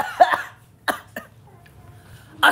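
A person coughs lightly in a home setting, several short dry coughs in separate bursts, close and fairly loud with quiet gaps between them.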